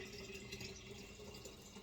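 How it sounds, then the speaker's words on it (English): Filtered water pours into a half-full glass kombucha jar during homemade brewing, a steady, soft liquid fill rushing evenly throughout at low level, with no talk. "I'll take some water here, filtered, which I'm going to have to add some more."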